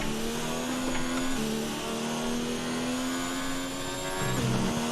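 A Formula 1 race car engine at full power in the F1 2019 video game screams at high pitch, holding a sustained whine with brief dips and shifts as the revs change, loud and continuous.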